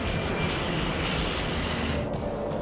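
Airliner engines roar steadily during takeoff, a dense broadband rumble with a high whine layered on top, loud and continuous with no voices heard.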